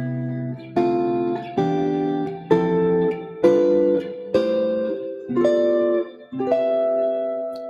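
Electric guitar with a slightly gainy tone playing a chord progression, four-voice chords struck one after another, each ringing about a second before the next, clear and close with no talking.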